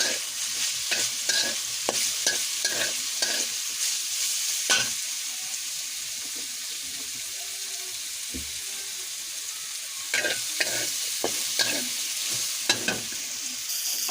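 Potatoes frying in hot oil make a steady, loud sizzle for the whole stretch, broken by repeated sharp scrapes and clacks as a spatula turns them in the pan.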